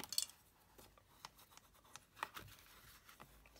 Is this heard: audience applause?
no